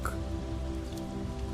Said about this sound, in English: the soft hiss where drops land in the grass